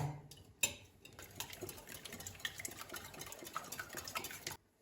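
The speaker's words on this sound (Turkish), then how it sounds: "3 tane yumurtayı karıştırma kabına kırdım ve çırpıyorum önce" Three eggs whisked in a mixing bowl, a quiet steady patter of quick utensil taps and scrapes against the bowl, with one sharp clink near the start.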